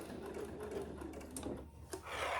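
A sewing machine stitches backwards through a clutch bag at a D-ring with a steady, quick mechanical whir and rapid needle clatter, close up and moderately quiet.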